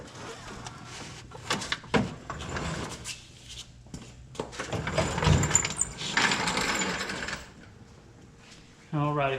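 Saleen S281 supercharged 2002 Mustang being lowered on a jack, with ratcheting, clanking and mechanical creaks over several seconds and a final metallic rattle, close by with a voice speaking at times.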